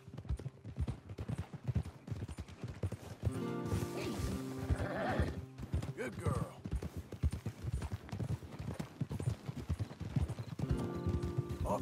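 Horse hooves clip-clop at a steady trot in the video game Red Dead Redemption 2, with an occasional whinny and bursts of game music layered over the busy hoofbeats.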